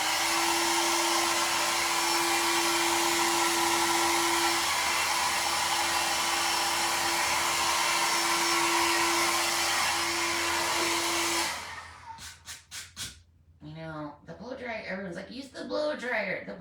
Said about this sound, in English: I'm going to hit this with the blow dryer real quick to get these glue webs off